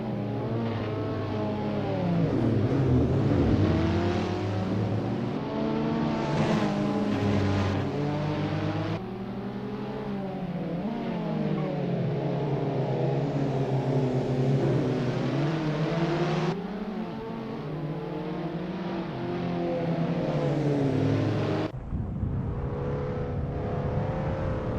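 Abarth 500 race cars warm up at Circuit de Pau in the Assetto Corsa racing game, their engines a continuous loud drone that rises and falls through repeated revs, with no talking.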